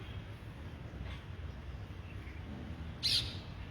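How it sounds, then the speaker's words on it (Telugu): A single short, high bird chirp rings out once over a low, steady outdoor rumble at Jal Vayu Vihar, Kukatpally. "పక్షుల కిలకిల రావాలు"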